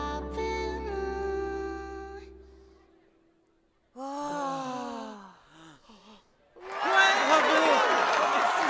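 In a Black Clover anime scene, soft sustained music and a vocal passage give way to a loud swell of crowd cheering filling the final two seconds.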